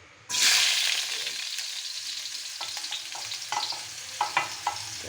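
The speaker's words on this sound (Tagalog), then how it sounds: "magigisa na tayo ng ating uh, mga rekado para sa ating gulay" Ginger and other aromatics hit a hot pan with a sudden loud sizzle, then settle into a steady frying hiss punctuated by a few stirring clicks and scrapes.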